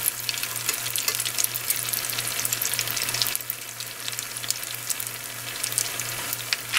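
Battered squid deep-frying in hot oil, a dense, steady crackling sizzle close by that carries on evenly with no voices, only a constant low hum underneath.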